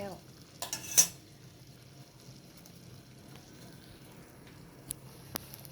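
Water with white butterfly pea flowers boils quietly in a pot, a soft, steady bubbling heard close, broken by a few sharp utensil clinks near the start and end.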